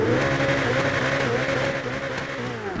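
A Ferrari SF90 sports car engine in GTA V roars steadily and loudly, a continuous dense drone with slight shifts in pitch and no talking over it.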